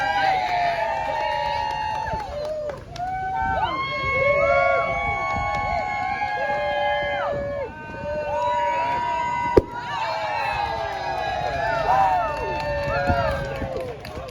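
A crowd at a Pride street show on Main Street cheers with loud, overlapping whoops and shouts, rising and falling in waves, with one sharp bang partway through.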